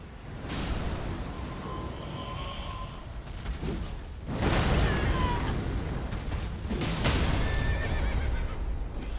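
In the Elden Ring video game, a horse whinnies loudly several times over a continuous rumble of galloping hooves, with boom-like bursts in between.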